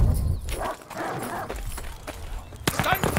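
Hostile dogs bark in short yips in the multiplayer game Vanguard, heard over loud game noise and someone talking, with a few sharper bursts near the end.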